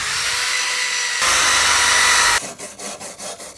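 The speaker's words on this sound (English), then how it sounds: "I'm going to zap this back and with the wire brush on the drill" Wire brush spun on an electric drill scrubbing rust off metal armatures, a steady abrasive whirring grind that cuts off partway and gives way to a pulsing, intermittent brushing.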